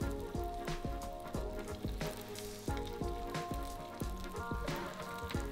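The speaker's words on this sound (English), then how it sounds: "I've heated up some grapeseed oil in the frying pan, and once that heated up, it's time to add our tofu." Tofu sizzles in hot grapeseed oil in a frying pan, giving a loud, continuous crackling hiss with sharper pops and spatters throughout, close up and with no talking.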